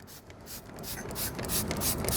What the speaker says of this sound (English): I'm going to spray a little bit of product onto the wheel itself.